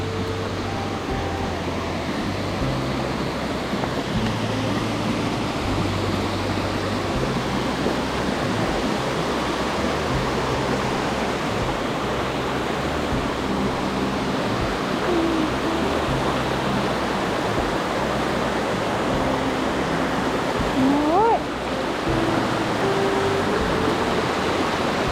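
Creek water flows steadily through woodland strewn with dead sticks and branches, a constant broadband rush with no voices.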